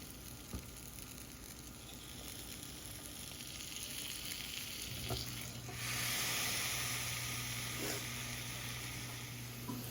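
Home fries sizzling steadily in a frying pan, a continuous close crackle and hiss that swells louder about midway as the potatoes are laid in, with a low hum underneath.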